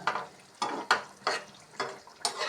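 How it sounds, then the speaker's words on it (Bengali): Pieces of boal fish fry in a spicy masala paste and are stirred in a pan, giving soft rhythmic bursts of sizzle, about six of them, close but quiet, with no talking. "আর এখন দিয়ে দিচ্ছি মাছগুলি।"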